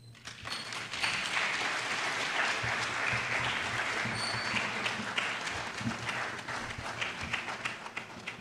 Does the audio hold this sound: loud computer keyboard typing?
no